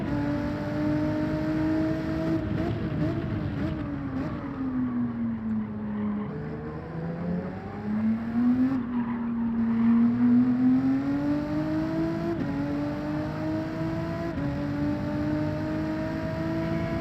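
Race car engines in Gran Turismo 7 drone steadily and loud throughout, pitch dipping and climbing through gear changes and corners, with no distinct skid squeal standing out.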